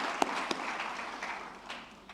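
Scattered applause for a guest at a senior citizens' parliament session, a few sharp individual claps over a thin, fading patter from the audience.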